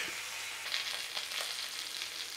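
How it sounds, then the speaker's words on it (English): The fat cap of a sous-vide sirloin steak sears in a hot pan, giving a soft, continuous hissing sizzle with faint crackles, steady and fairly quiet with no talk. "we need to actually sear that end cap fat as well"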